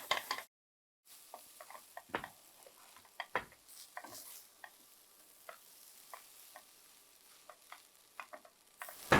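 Soya chunks tossed into a hot pan and stirred, giving scattered clicks, scrapes and light crackles over a soft sizzle, with a brief silent gap near the start.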